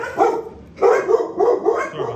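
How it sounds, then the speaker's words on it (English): A dog barks in loud bursts indoors, a short opening bark followed by a run of several rapid barks, with no talk over it. "Dog started barking and stuff like that."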